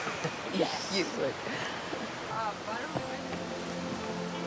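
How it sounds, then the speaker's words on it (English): A waterfall in the temperate rainforest at Capilano, Vancouver, gives a steady broadband rush beneath nearby voices talking throughout. "Waterfall."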